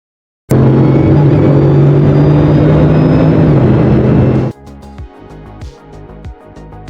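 An 8.0-liter quad-turbo W16 hypercar engine of 1,200 horsepower roars loud and close with a sustained low drone for about four seconds, then cuts to a quieter stretch of scattered knocks and clicks.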